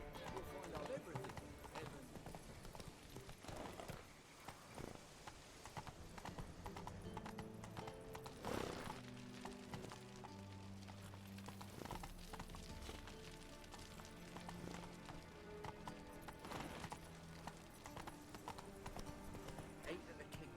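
Hooves of a horse gallop in The Witcher 3, a fast steady clip-clop running throughout at moderate level, mixed with game music, a whinny and voices talking over it.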